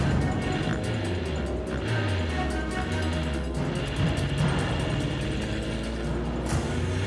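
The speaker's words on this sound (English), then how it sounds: "I notice a strange noise coming from my engine" A Formula Vee race car's engine makes a strange noise on track during a qualifier, a continuous moderate engine drone with a wavering low hum and no voices.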